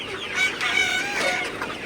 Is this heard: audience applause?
no